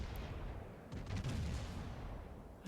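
Naval gun salvos from a World of Warships battleship firing at an enemy ship, a rumbling series of muffled booms in steady game ambience with no talking.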